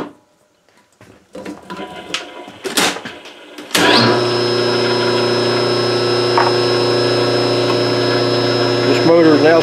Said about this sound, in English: So now I'm gonna start this motor and counterclockwise.